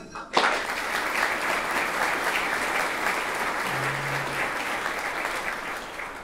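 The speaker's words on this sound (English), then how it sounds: "can we have a big round of applause today for Security Benefits" Applause for the presenting sponsor at a corporate advisors' breakfast event: a sharp onset followed by a sustained, even roar of many hands clapping, moderately loud throughout.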